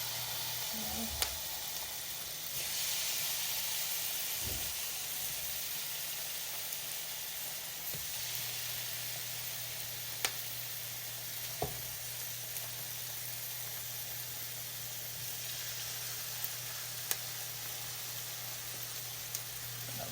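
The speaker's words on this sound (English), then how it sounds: "the pan should be warmed up enough, and let's start to add the meat" Meat sizzling as it fries in a warmed pan, a steady, even hiss that holds fairly loud throughout with a few small pops and crackles.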